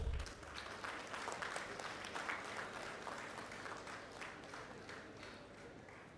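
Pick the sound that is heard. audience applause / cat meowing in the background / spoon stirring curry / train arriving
audience applause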